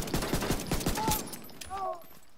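Rapid gunfire in The Division 2, a quick burst of about seven close, punchy shots in the first second, followed by trailing game sounds and a brief voice.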